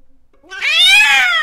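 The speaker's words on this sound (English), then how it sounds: "We all jumped from the sudden cat screech right outside the door." A cat lets out a sudden, loud, drawn-out screech just outside a door on a quiet winter night in a countryside village in Korea, rising sharply after near silence and holding strong.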